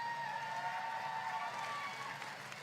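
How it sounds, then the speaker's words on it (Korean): An outdoor crowd at a political campaign rally in Seongnam applauds with cheers mixed in. The sound is distant, diffuse and moderately loud, with a sustained tone running beneath it. "박수 한번 주세요."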